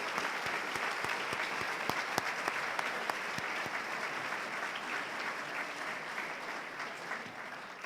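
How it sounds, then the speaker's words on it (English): An audience at a dentistry white coat ceremony applauds the incoming class, sustained crowd clapping heard at moderate distance, with some louder single claps popping out near the start. "A big round of applause for them."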